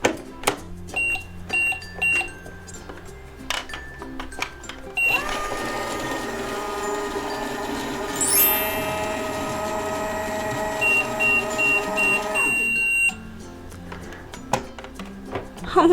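A Paw Patrol toy magic microwave oven chirps a few short beeps, then runs with a steady electronic hum and tones for several seconds, including a rising whistle partway through. More beeps follow after it stops.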